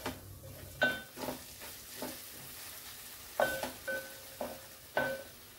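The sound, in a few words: sautéing chopped tomato in masala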